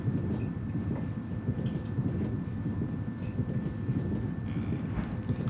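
A subway train rolls through Queens with a steady, loud rumble of wheels and carriage noise that holds constant, and no voices are heard.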